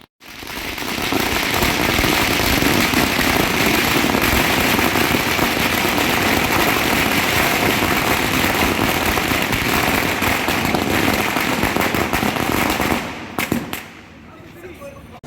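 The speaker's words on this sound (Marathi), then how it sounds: "कार्यकर्त्यांनी फटाके फोडून आपला आनंद व्यक्त केला" Loud, dense crackling of firecrackers bursting rapidly for many seconds in Ratnagiri after polling closed in the 2024 assembly election, then trailing off into a few scattered pops near the end.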